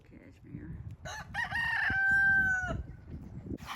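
An aggressive rooster crows once, a long drawn-out cock-a-doodle-doo rising and holding steady at close range over a rustling, muffled farmyard background.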